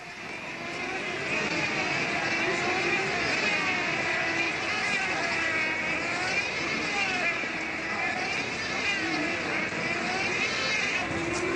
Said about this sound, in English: That's the plane that's just been flying.